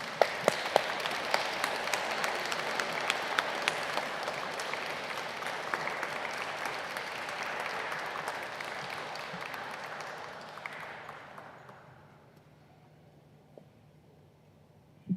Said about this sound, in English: Let's give Emma a round of applause.